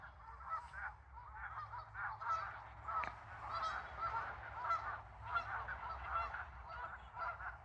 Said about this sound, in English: I can hear the ducks, and I don't know if you can, but it sounds so cool.